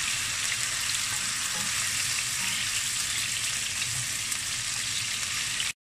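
Duck tongues fry in hot oil with a dense, steady sizzle and crackle, close and loud throughout, with no voices over it.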